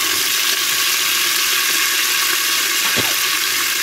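Onions and green chillies fry loudly and steadily in hot oil for mutton biryani, giving a dense, continuous close-up sizzle with a faint scrape near the end.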